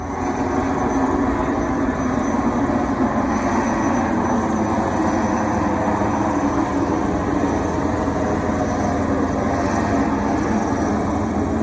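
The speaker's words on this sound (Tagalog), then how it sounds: "Isang Chinese Navy helicopter ang lumipad sa itaas ng mga barko ng Bureau of Fisheries and Aquatic Resources" A Chinese Navy helicopter flies over Philippine Bureau of Fisheries and Aquatic Resources ships at sea, a loud, continuous engine and rotor roar that holds steady throughout with no voices.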